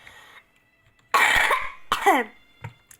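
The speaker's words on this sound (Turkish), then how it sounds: "Öksürük krizi." A coughing fit nearby: a couple of harsh, loud coughs in quick succession, followed by a smaller rough cough and a faint throat sound.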